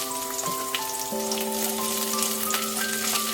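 Green peas frying in a pan, giving a steady close hiss of sizzling oil, with a faint higher ringing tone above it and no talking.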